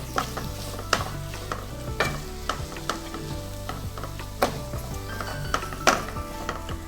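Potato masala is stirred with coriander leaves and lemon juice for bread bajji, giving repeated clinks and scrapes of a spoon against a metal pan over a soft continuous hiss, with no talking.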